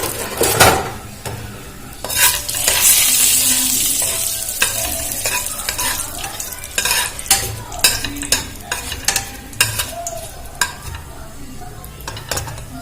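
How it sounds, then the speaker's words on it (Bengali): Cinnamon and cardamom frying with bay leaves in a pan, a soft continuous sizzle broken by repeated scraping and clinking stirs of a spatula, close and fairly loud, with no talking. "আর দিয়ে দেব দারচিনি আর এলাচ। এটা একটু ভেজে নেব।"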